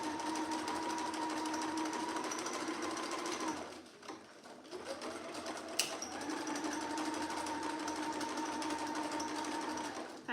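A domestic sewing machine runs a long continuous seam on a dress, its steady whirring hum pausing briefly midway before resuming at the same even pace.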